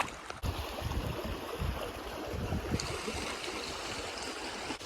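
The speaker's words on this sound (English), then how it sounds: "I'm going to walk in the river to get back" Footsteps wading through a river stream in a canyon bottom at Grand Staircase-Escalante, a continuous rushing splash of water with irregular sloshing steps, close and steady throughout.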